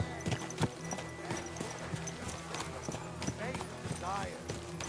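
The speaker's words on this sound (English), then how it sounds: "My, what a beautiful horse." Horse hooves clop in an uneven rhythm at moderate distance, with a whinny and people talking over them.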